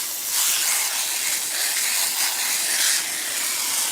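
Steady hiss of a citrus foam coil cleaner sprayed onto the coil of an RV rooftop air conditioner, a continuous close, loud spray lasting the whole stretch with slight pulses and no talking.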